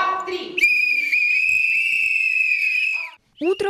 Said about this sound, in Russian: Утро в детсаду номер 3 началось по свистку.